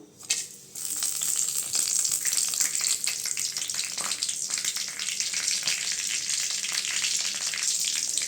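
Cinnamon and cloves fry in hot oil in a heated pan, making a loud, continuous, crackling sizzle. The sizzle starts abruptly after a brief quiet moment and stays steady throughout.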